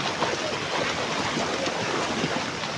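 A swollen river rushes past during a fishing outing, producing a loud, dense, unbroken roar of water close by, with no speech.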